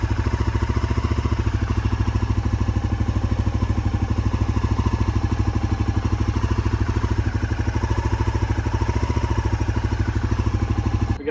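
A 1989 Honda NX250 motorcycle engine idles steadily and loudly close by, with a fast, even mechanical pulse and clatter that holds without pause.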